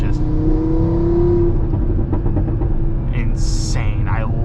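The five-cylinder exhaust of a Stage 2 tuned Audi TT RS revs loudly from inside the car, a sustained droning tone that fades into rumbling road and wind noise, with brief talk near the end.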